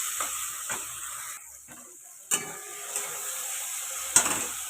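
Spice paste of ground nuts, melon seeds and whole garam masala sautéing in a kadai, giving a soft steady sizzle with occasional scraping stirs and clinks, no talking.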